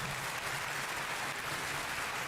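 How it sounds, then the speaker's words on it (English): Faint, steady applause from a crowd in a Wind Waker HD game cutscene, a soft, even patter of clapping that sounds almost like static, with no talking. "Is that clapping? Yeah, applause."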